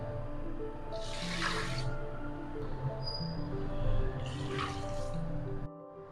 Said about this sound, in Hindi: साथ में डालेंगे 2 कप पानी,